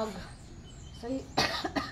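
A person coughs a couple of times, close and fairly loud, after some quiet murmuring.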